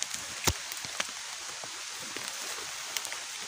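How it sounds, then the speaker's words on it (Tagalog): Heavy rain falls steadily outdoors during a wild junglefowl trapping trip, a constant fairly quiet hiss with a few sharper drop hits scattered through it. "Ayan, lakas ng ulan."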